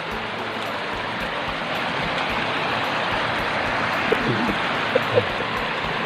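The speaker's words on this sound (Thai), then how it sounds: "น้ำไหลพี่น้อง" Water of a stream flows continuously at a net-fishing spot for red-tailed rasbora in rural Thailand, a steady close rushing wash with a few faint knocks near the end and no speech.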